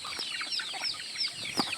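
Chickens clucking nearby in a rural village setting, a steady chatter of short, high, overlapping clucks and calls with no talking.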